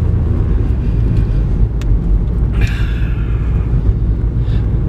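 A car driving along, its steady engine and road rumble filling the low end at constant loudness throughout, with no speech over it.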